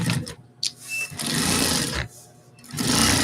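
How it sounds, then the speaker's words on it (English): A sewing machine sews a flap pocket onto an end panel, running loud and close in long bursts with short stops between runs. "And now what I'm doing is I'm sewing"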